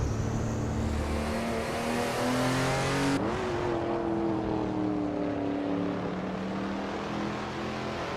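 A 1975 Group 4 BMW CSL race car in a racing video game, its engine droning steadily with a pitch that climbs, dips after a gear change and slides down again, with no talking.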